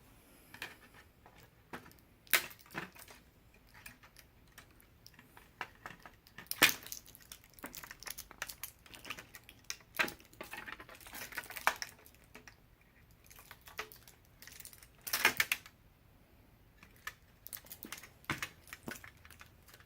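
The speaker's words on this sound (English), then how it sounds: "So I'm just going to cut all of these." Wire cutters snip through the wiring between 18650 cells pulled from a laptop battery pack, a series of sharp, close clicks and crunches scattered irregularly over quiet background handling.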